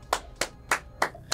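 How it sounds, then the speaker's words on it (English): Applause from a small group, heard as five separate sharp bursts of clapping spaced evenly and fairly close, with no one talking. "Don't applaud him."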